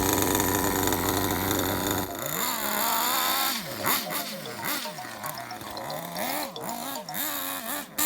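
A Kyosho Inferno Neo nitro RC car's small engine buzzes steadily at limited throttle, then rises and falls in pitch through repeated gentle revs as the car circles around nearby.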